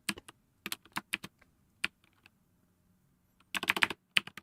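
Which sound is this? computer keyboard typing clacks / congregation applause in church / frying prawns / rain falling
computer keyboard typing clacks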